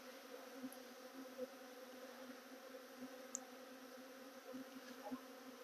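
Honey bees swarm around freshly harvested raw honey outdoors, a continuous faint buzzing drone with occasional closer bees passing by, no one talking.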